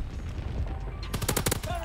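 A rapid burst of automatic gunfire from a DLC weapon in Call of Duty WW2, a run of sharp, close, loud shots in quick succession that follows about a second of quieter in-game ambience.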